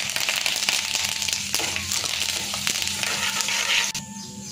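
Curry leaves frying in hot oil for a tempering with mustard seeds, cumin and split lentils: a steady, loud sizzling hiss with crackles throughout, close up and without talk.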